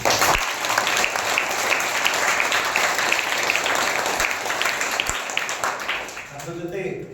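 A crowd gives loud, sustained applause for teachers, dense clapping filling the whole stretch before fading slightly at the end.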